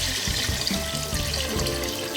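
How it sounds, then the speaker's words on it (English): Cold tap water runs steadily into a pan of chopped vegetables for a creamy vegetable and cheese soup, a continuous close splashing pour with no talk. "What we need to do now is get water in."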